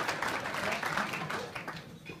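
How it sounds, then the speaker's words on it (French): An audience claps in a hall, a brief burst of applause at moderate distance that trails off after a couple of seconds, with a voice faintly present. "Oui, vous pouvez les applaudir."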